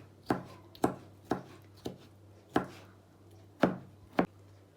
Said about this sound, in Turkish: Şöyle iki adet kornişon turşum vardı. Bunları da küçük küçük doğruyorum.